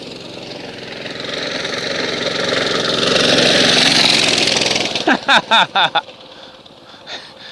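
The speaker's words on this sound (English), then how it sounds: "That thing's got a 5 horsepower Chinese engine on it." A homemade mini bike with a 5 horsepower Chinese engine runs steadily nearby, its droning engine building in loudness, then giving way to a few short bursts of talking near the end.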